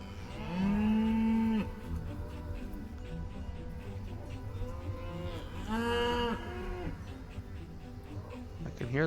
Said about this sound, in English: I can hear them all mooing.